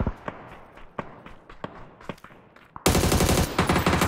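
AUG rifle fire in PUBG: scattered single gunshot cracks and footstep-like thumps, then a sudden loud sustained burst of automatic fire running to the end.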